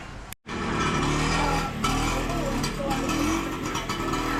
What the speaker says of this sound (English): It's a real high street for motorcycles